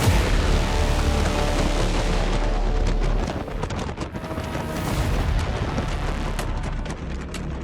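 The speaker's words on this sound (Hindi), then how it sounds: "खाड़ी में विस्फोटों की गूंज सुनाई देने लगी" Distant missile explosions at an oil refinery in Haifa boom and echo in a continuous heavy rumble, with crackling bursts layered over a dense, roaring wash of sound.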